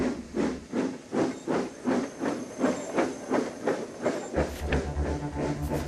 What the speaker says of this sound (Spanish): Llegaba la máquina de vapor y con ella una revolución.